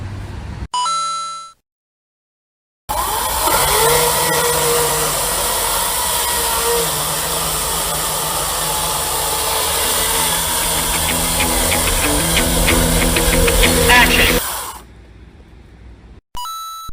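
A Metabo cordless battery chainsaw runs with a steady electric whine for about twelve seconds after a short beep and a pause, with faint rising tones along the way before it cuts off near the end.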